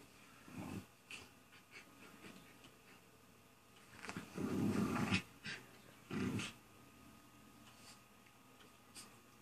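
A dog growling and grumbling in low, rough bursts with wheezy breaths and faint background noise, mostly quiet with louder rumbling stretches in the middle.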